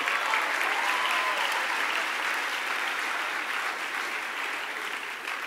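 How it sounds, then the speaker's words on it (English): A school chapel audience gives a warm, dense round of applause for the accompanist, a steady, full wash of clapping lasting throughout at an even level. "Let's give her a nice round of applause."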